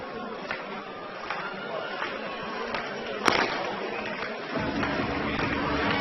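A starting pistol fires for a junior European championship 5000m race in Tallinn: one sharp, brief crack cutting through steady stadium crowd noise.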